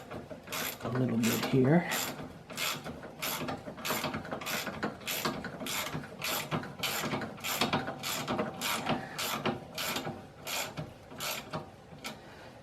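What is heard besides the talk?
ratchet socket wrench tightening on snowblower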